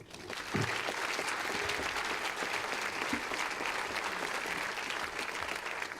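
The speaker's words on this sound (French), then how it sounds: "Je vous demanderai tout simplement de les applaudir" Ceremony audience bursts into applause for honorees at a snow-themed awards event; clapping swells in quickly after a brief quiet start and holds steady and full.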